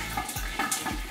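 Chicken pieces frying in about half a cup of oil seasoned with smoked paprika, a steady close sizzle with soft bubbling pulses across a short stretch, no voices.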